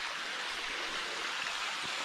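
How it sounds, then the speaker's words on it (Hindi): A small waterfall on a slippery forest trail near Silchar pours in a steady, broad rushing wash that fills the clip without a break, close and fairly loud, with no voices over it. "ये रहा छोटा मोटा झरना।"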